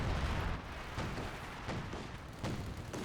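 An artillery barrage in Company of Heroes 2, with a dense, continuous rumble of booms and several sharp distant impacts breaking through in an irregular rhythm.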